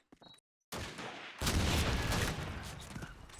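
In Call of Duty 2 on the Toujane map during a competitive match, a grenade blast booms after a short silence and then gives way to a dense burst of gunfire that fades slightly, loud and close.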